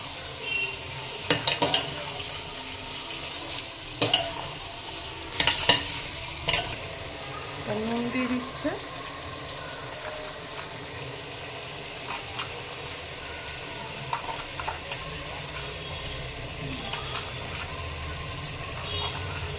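Spices, including ground black pepper and turmeric, are stirred in a frying pan with a spoon, giving repeated scraping knocks over a soft continuous sizzle, up close and without talk.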